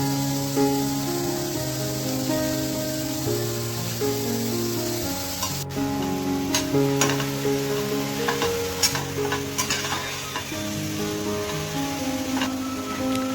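Chopped onion and tomato sizzle and fry in a pan, a steady crackling hiss with scattered sharp pops and stirring scrapes, close and continuous without talk.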